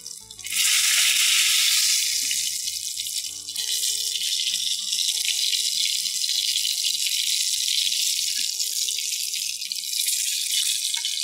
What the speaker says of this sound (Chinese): 那稍微两面煎的差不多，有点脆脆的话，我们再煎一下四个面